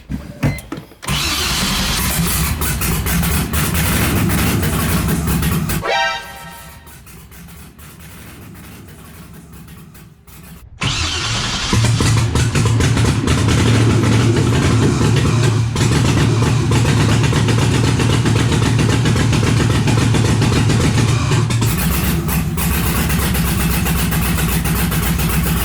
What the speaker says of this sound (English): Well, it starts. Didn't start that well though.